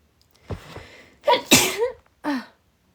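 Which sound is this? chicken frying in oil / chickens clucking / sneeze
sneeze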